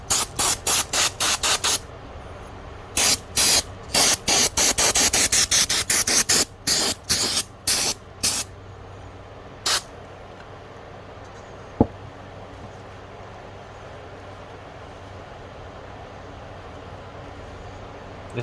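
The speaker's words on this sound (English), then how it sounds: "This is where the brake clean comes in." Brake cleaner sprayed onto a Ford Escape rear differential during a fluid service, a series of loud close aerosol bursts, some rapid and some longer, then quiet shop room tone with a faint knock.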